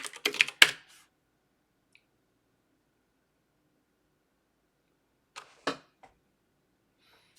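Someone types on a computer keyboard: a short flurry of close keystrokes, a long silent pause, then a few more isolated key taps in a quiet room.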